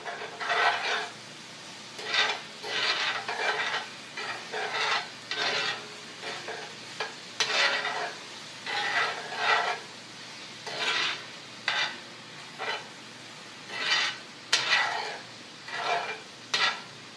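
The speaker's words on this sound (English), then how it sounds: "So now I'll start stirring it." Vegan cheese melting over mushrooms and carrots gets stirred in a pan, a steady run of scraping, rasping strokes about once a second over a soft sizzle, close and fairly quiet, with no talking.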